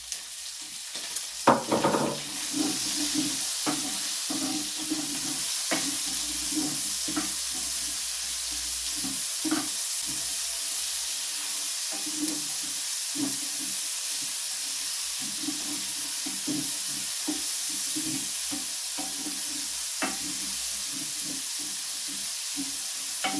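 Onions sizzle and fry steadily in a hot pan with pork, with occasional stirring scrapes over a constant hiss.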